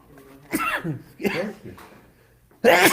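Several short, sharp sneeze-like bursts from a man during a Talmud class, separated by pauses, close to the microphone in a quiet room, the last one loudest.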